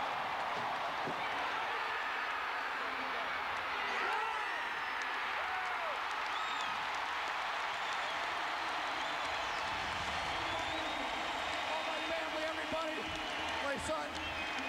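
A packed stadium crowd roars and applauds steadily after Mark McGwire's 62nd home run in a 1998 St. Louis Cardinals game against the Chicago Cubs, with sustained cheering and clapping throughout and a commentator talking over it.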